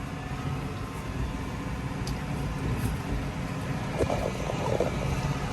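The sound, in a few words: tractor pulling Case IH RB565 round baler, speeding up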